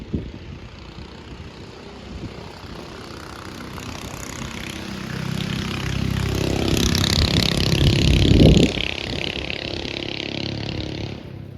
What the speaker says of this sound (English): We got some mini bikes coming.